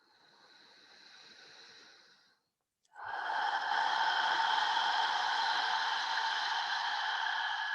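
Slow deep breathing during a wall-assisted yoga stretch for the spine, shoulders and lower back: a softer airy inhale, a brief pause, then a louder, sustained breathy exhale that fills the rest, close and alone.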